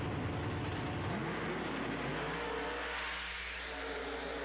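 Two drag racing door cars, a Cutlass and a Corvette, roar down the strip at full throttle, a loud, dense engine howl that stays strong and then thins as they pull away.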